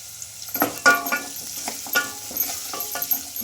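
Onions fry in hot oil with curry leaves and a halved green chilli, giving a close, soft sizzle under repeated scraping strokes of a spatula against the pan. No voices are heard.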